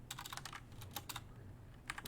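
Quiet, rapid keystrokes clatter on a computer keyboard in irregular bursts with a short pause midway, close and faint with no voices.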